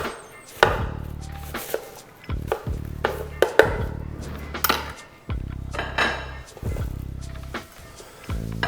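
Knife chopping through red cabbage on a wooden cutting board, a series of crisp, close thuds with crunchy slicing between them, coming in short bursts separated by brief pauses.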